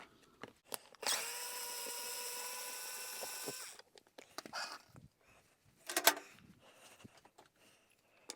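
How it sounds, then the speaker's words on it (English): A power driver whines steadily for about two and a half seconds while backing screws out of a Vortech Force 3 vacuum cleaner, followed by scattered clicks, handling knocks and a short buzz. "Let's take out these screws."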